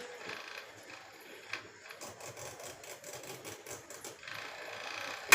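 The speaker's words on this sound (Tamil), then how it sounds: "இந்த பல்வரைசர் மிஷின் வந்து இப்போ வந்து நம்ம ஆன் பண்ணி பார்க்கலாம் எவ்வளோ ஸ்பீடில் வந்து அரைக்குதுன்ட்டு" A pulverizer machine grinds mudakathan idli podi spice powder with a continuous, fairly quiet mechanical whirring and rattling. The sound holds steady for the whole stretch, with a slight rise near the end and no talk.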